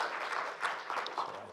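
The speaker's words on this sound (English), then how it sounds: "give him a big round of applause" Brief, moderately quiet clapping from an audience at an early literacy years forum, a scattered round of hand claps without any voices.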